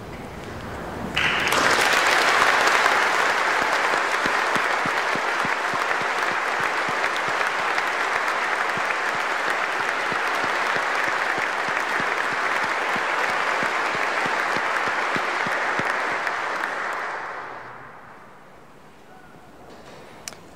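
A church congregation at a Diocese of San Jose Mass breaks into sustained applause, a dense, even wash of clapping that holds steady for about fifteen seconds before fading away, with no speech over it.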